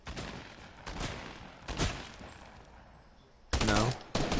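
Bursts of rapid video-game gunfire crackle in short volleys during an online shooter match, with a louder close burst near the end and faint voices in between.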